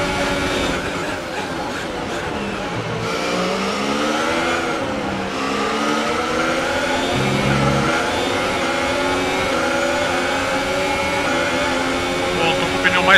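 Formula 1 engines race in the F1 2018 video game at the French Grand Prix, with continuous high-pitched whines that rise and fall through gear changes as cars pass, loud and sustained.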